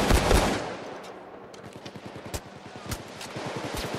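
Steakout 12g shotgun fire in Payday 2, a loud opening burst followed by a rapid string of sharp, evenly spaced shots ringing out alone with no voices.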